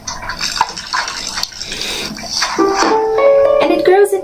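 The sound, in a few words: watering a seed in the video game Botany Manor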